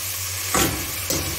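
Yellow lentils drop into a pan of sautéing onion and tomato, setting off two bursts of close, bright sizzling over a low steady cooking hiss.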